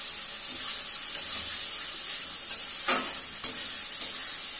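Mutton frying in oil in a kadhai gives a steady, close sizzle, broken by several sharp scrapes and clicks of stirring, with no voices.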